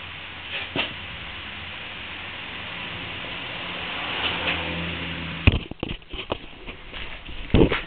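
A dirt bike engine runs outdoors, a steady mid-distance drone that rises gently, then gives way to rough bursts, knocks and clatter toward the end; no talk.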